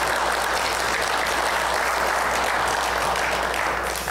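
A church congregation claps for mothers on Mother's Day, a dense, even wash of applause filling the room for about four seconds with no break.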